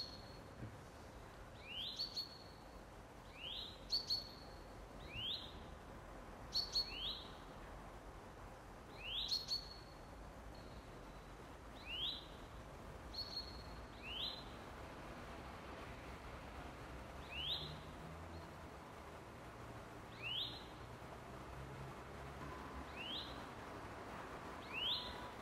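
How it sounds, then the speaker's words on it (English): Chaffinch song rings out in a garden in April, a series of separate bright chirps repeating every few seconds, moderately close, over a quiet outdoor background. "This female chaffinch is part of a pair that are regular visitors to the garden."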